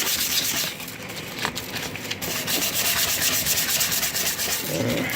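Sandpaper rubs back and forth over the wooden handle of an old tool, a steady close scratching that runs continuously with slight pulses and no voices.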